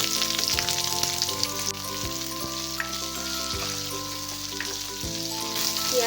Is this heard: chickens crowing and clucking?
no